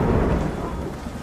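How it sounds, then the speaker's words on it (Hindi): Rain falling on a field with deep rumbling thunder, loud and close, the rumble easing slightly toward the end. "बारिश की बूंदें अब भी गिर रही हैं"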